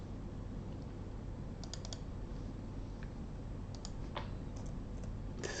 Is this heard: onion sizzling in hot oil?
no